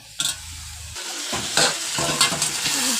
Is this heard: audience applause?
no